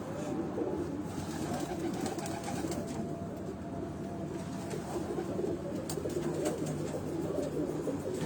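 Lal pari breed pigeons coo softly and repeatedly in low, throaty tones over a steady background hum, with no one talking.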